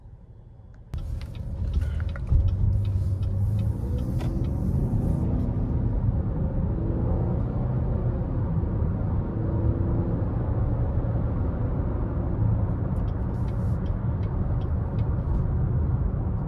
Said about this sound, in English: let's go ahead and take this 2023 Blazer RS out on the road for a quick test drive